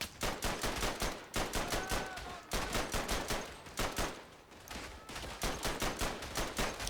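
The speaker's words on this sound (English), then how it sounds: "stop running in front of my machine gun, soldiers" Machine gun fire in the WWI video game Verdun, rapid sustained bursts of loud automatic shots with brief pauses between volleys.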